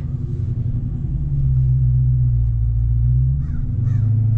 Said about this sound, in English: So let's go ahead and drive